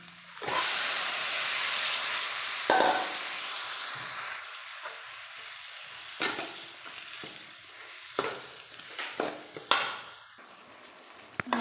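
Cooked banana stem and lentils being stirred into a sizzling pan for thoran, with a steady fry hiss and repeated scraping strokes of the spoon, close and alone without talk.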